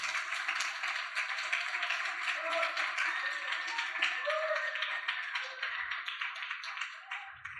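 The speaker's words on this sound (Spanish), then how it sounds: "den un aplauso a la vida de nuestro hermano Orlando" A church congregation claps continuously and evenly throughout, a dense patter of hands that thins slightly at the end.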